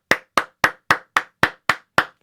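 Eight sharp hand claps in an even, steady rhythm, close and crisp with silence between each.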